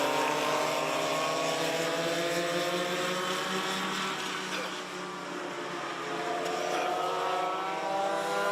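Go-karts racing at Forks Karting Speedway: a steady, loud blend of many high-revving small engines droning and whining together as the pack circles, a continuous roar that dips briefly before swelling again, with an announcer faintly under it.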